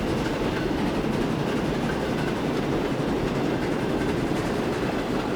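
A train in the Transport Fever 2 railway game pulls out of a station, a continuous dense rumble of wheels and cars on track, loud and steady throughout with no voices.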